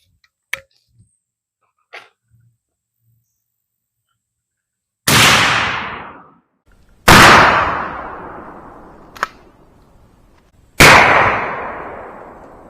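A 12 gauge shotgun fires a single loud, close blast of Hornady Critical Defense #00 buckshot, with a long decaying echo, then two more equally sharp shots follow at even intervals. A few faint clicks come before the shots.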